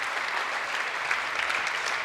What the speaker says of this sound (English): Huge round of applause from the audience.